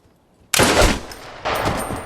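Gunfire from a war drama episode: a sudden loud burst of shots erupts after half a second of near silence, followed by a second sharp volley, both close and harsh with no talk over them.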